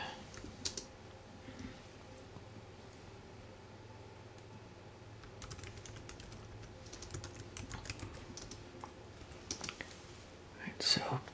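Soft clicking of a computer keyboard being typed on, faint and irregular in short bursts, with quiet voice-like murmuring in the background.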